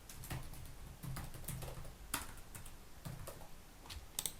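Typing on a computer keyboard at close range: faint, quiet bursts of soft clicking key taps with short pauses in between, and no voices.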